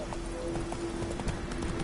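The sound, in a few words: Roach the horse's hooves clip-clopping in The Witcher video game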